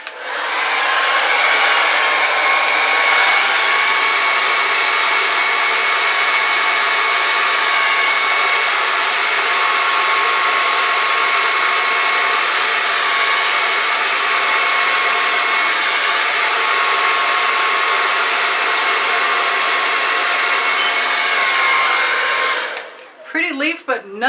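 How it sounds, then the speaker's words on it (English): A hair dryer blows steadily and loudly over wet poured acrylic paint for over twenty seconds, with a constant whine over a broad airy rush, then cuts off near the end. "And I'm going to keep trying the blow dryer."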